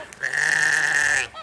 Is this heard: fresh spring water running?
no